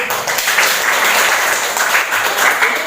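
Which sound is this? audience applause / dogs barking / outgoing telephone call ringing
audience applause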